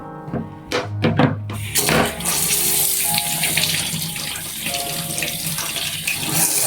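Tap water runs hard into a sink while a mango is washed under it, a steady loud gush after a few opening knocks and thunks, with no talking.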